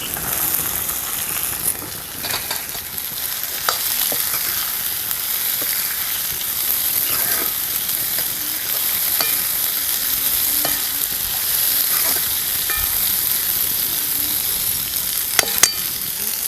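Beans added to a hot pan sizzle steadily while being stirred, with scattered scraping clicks over a constant bright frying hiss that continues without a break.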